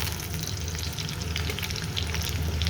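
Beef paya sautéing with onions in a small pressure pot, a steady close sizzle of frying running without a break, with faint stirring scrapes underneath.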